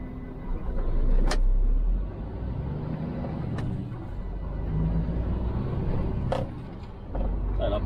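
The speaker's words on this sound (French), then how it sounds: "Ah, la BM, il est parti plein gaz" BMW car pulling away at full throttle in the Sahara, a broad engine roar swelling and fading over steady low rumble, with a few sharp transient clicks along the way.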